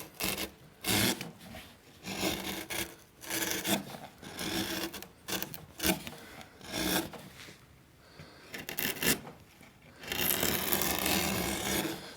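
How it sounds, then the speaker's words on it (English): A sharp carving gouge pushed through spruce to rough-carve an archtop instrument plate, giving repeated rasping, scraping strokes with brief pauses between them, close and fairly loud throughout. "if you get your gouge sharp, you should be able to push it through spruce at least"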